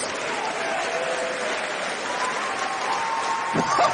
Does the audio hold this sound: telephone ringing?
no